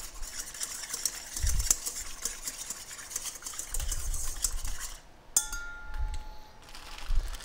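Salt and pepper being stirred into a chicken taco filling, a utensil scraping and clinking against the pan in steady strokes with a few louder knocks, heard fairly close with no talk.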